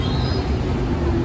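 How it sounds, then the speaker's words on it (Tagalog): A new LRT light-rail train passing close by, a steady loud rumble of wheels on track with a high squeal above, filling the short moment without any talk. "Yan po ang bagong LRT train niya."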